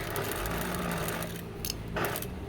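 A sewing machine runs steadily while stitching a doll's sleeve cuff, a continuous close mechanical whir with short pauses and restarts near the end.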